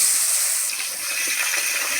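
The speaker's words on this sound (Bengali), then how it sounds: "এবার আলুগুলো ভেজে নিচ্ছি।" Potato pieces frying in hot oil for a Bengali pangas fish curry, a steady broadband hiss and sizzle that holds close and even throughout, with no voices.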